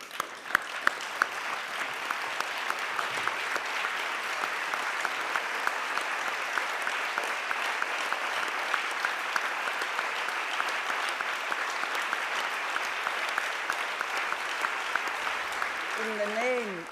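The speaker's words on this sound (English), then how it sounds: "give a minute, not of silence this time, but of applause to celebrate her life" A standing audience at the 2014 Martin Ennals Award ceremony gives a long, steady round of applause, even and sustained throughout, with a faint voice near the end.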